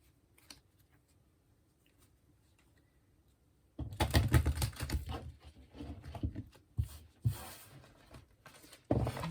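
After a quiet start, a burst of close, rapid papery riffling and flapping as tarot cards are shuffled, continuing in uneven waves.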